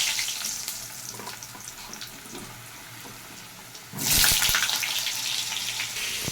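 Potatoes dropped into hot oil tempered with bay leaf, dried red chillies and cumin for aloor dum, a quiet low sizzle that erupts into a loud, bright hiss and crackle midway and keeps spitting.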